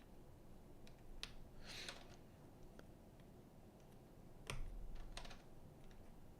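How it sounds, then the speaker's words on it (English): Mechanical keys with upgraded keycaps on a Crush 80 keyboard are tapped in sparse, irregular strokes. Each close, quiet click stands alone with no talking. "you can hear a difference when you have better keycaps"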